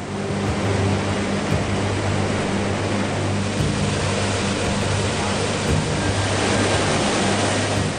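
Polluted Thirumanimutharu river water near Namakkal, frothing with chemical foam, rushes past in a loud, dense, unbroken roar that holds steady throughout.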